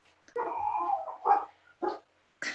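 A few dogs bark in short, separate bursts after a longer whining yelp, fairly close and loud, with brief quiet gaps between barks.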